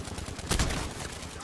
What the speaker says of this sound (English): I just kept shooting at him